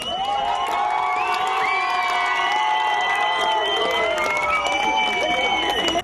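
Crowd shouting and cheering as a bus carrying 24 returning ATO soldiers pulls into a military base, a dense sustained wall of voices with high cries and whoops, loud and continuous.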